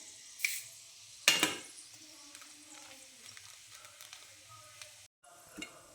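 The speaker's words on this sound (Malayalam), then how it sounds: "ഉഴുന്ന് പരിപ്പ് ഇടാം" Urad dal frying in hot oil in a pan, a soft continuous sizzle broken by a few louder stirring scrapes near the start and brief clatters later, fairly quiet and close.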